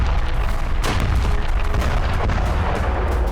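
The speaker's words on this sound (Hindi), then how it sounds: "गाजा में इजरायली सेना की बमबारी बहुत तेज हो गई है" Explosions from an Israeli army bombardment in Gaza, a dense rumbling barrage of heavy booms and cracks in rapid succession, loud and continuous throughout.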